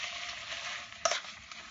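Pasta tossed in a pan with pancetta gives a soft continuous sizzle, broken by one brief rattling shake of the pan midway, close and fairly quiet.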